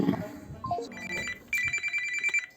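A telephone rings again as a scam caller from an 0850 number calls back: short, bright electronic ring tones repeat at close range and fairly quiet.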